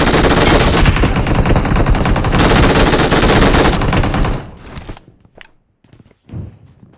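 Sustained, loud automatic machine gun fire in a solo ranked shooter game, a dense rapid stream lasting about four seconds before cutting off to quiet thuds and faint steps.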